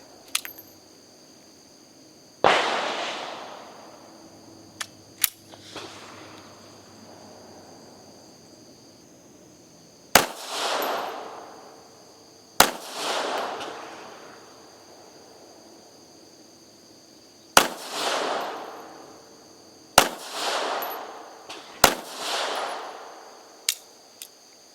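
A SCCY CPX3 .380 auto pistol fires about ten sharp shots at irregular intervals, some in quick pairs, each a crisp crack with a short decaying tail, heard from a moderate distance at an outdoor range.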